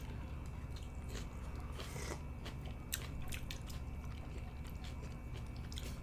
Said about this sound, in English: What the hell are you chewing on?